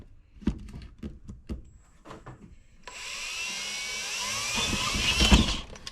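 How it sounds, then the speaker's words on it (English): Several sharp knocks and thumps at first, then a power drill with a spade bit whirs loudly and steadily into wood for the rest of the clip. "My Dremel is missing some pieces, so we're gonna have to drill this out."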